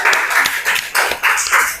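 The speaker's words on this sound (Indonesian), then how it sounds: "Ya, tepuk tangan untuk kelompoknya." Clapping from a classroom audience for a group that has just finished presenting, a steady patter of many hands in short uneven bursts, fairly close and loud, with no talk over it.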